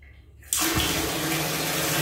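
Murky brown water gushes from a hospital tap, starting abruptly after a brief quiet moment and then running loud and steady without a break.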